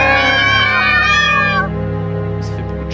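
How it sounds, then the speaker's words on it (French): A cat meows in a horror video game, a long, drawn-out, wavering cry that gives way to quieter tonal sounds and a couple of brief high chirps. "Ça fait beaucoup de chats, ça."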